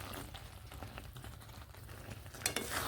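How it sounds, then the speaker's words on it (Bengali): Jujube pickle is stirred with oil in a pan, a quiet, soft scraping and light sizzle that ends in a slightly louder clatter. "খুব ভালোভাবে তেল দেওয়ার পরে এইভাবে মিশিয়ে নিচ্ছি"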